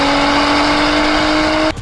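An Audi B9 with an 034Motorsport TCU tune holds a loud, steady engine drone at wide open throttle, then cuts off abruptly near the end.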